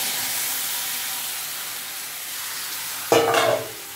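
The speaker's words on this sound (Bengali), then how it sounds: "এবার আমি এর মধ্যে হালকা করে ভেজে রাখা ফুলকপিগুলো দিয়ে দিচ্ছি।" Lightly fried cauliflower florets go into hot oil in a vegetarian dish, giving a steady soft sizzle and then a brief louder crackle and stirring scrape near the end.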